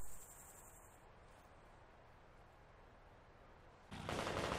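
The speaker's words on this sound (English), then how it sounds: "Oh, it's shooting at me." Gunfire shoots at the player in a video game: a faint steady crackle of distant fire runs for several seconds, then a loud, dense burst of shots erupts at the end.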